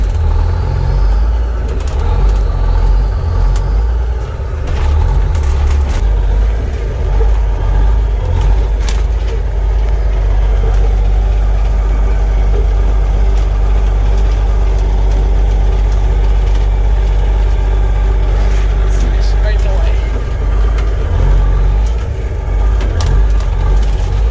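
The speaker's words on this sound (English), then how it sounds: "Driving around the front lot, just pissing off the neighbors." A Freightliner cabover truck with a Big Cam Cummins engine drives slowly around a front lot, its deep diesel rumble steady and loud throughout with slight swells in load.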